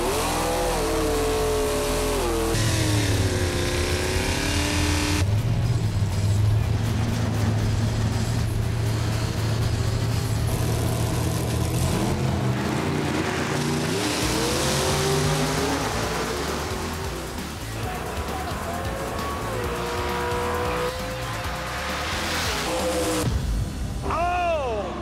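Chevy II drag race cars run at Sonoma Raceway, with loud engines revving and roaring through launches and passes as a commentator talks over the racket, the car noise rising and falling but never stopping.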